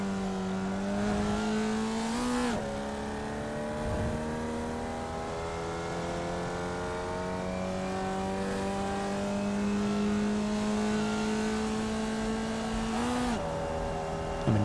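A Formula Vee race car engine drones steadily at close range with a strong harmonic hum, and sharp gear-shift dips occur near the start and again near the end of a sustained run.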